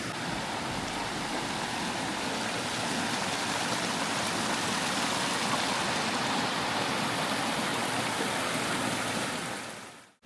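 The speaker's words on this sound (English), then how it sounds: "Made it to the last river crossing and it's massive" Large, fast-flowing river at a hiking crossing in Nelson Lakes National Park, New Zealand, giving a loud, steady rushing roar of water close by that stays constant and then cuts off.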